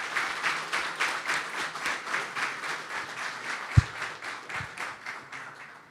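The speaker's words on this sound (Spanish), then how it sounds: "Les pido un fuerte aplauso para Pablo." A conference audience applauds the speaker Pablo with moderate, even clapping, steady throughout and heard from within the room, with a couple of sharp knocks partway through.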